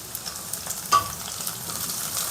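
Chopped garlic and onion sauté in a hot pan for vegetable fried rice, giving a steady close sizzle with light stirring scrapes and one brief clink partway through. No one speaks.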